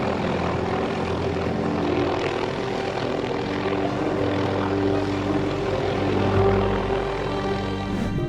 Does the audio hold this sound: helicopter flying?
yes